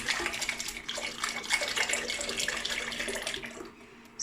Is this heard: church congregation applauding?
no